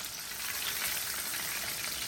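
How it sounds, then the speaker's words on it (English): Fish pieces fry in hot oil for a fish fry, giving a steady, close, hissing sizzle with a soft crackle and no talking. "So first side, fry it for about 1 to 2 minutes, and then flip it over for an additional 1 to 2 minutes"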